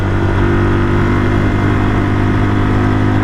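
A 1978 Kawasaki KL250 motorcycle with a newly installed carburetor cruising in top gear at about 53 mph and 5,500 RPM: a loud, steady engine drone with a strong even hum and constant wind rush, no voices.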